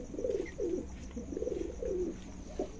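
A golden pigeon, a 2017 Sialkot show champion now kept for breeding, coos in a steady series of low, rolling calls repeated about every half second, close by against a quiet background.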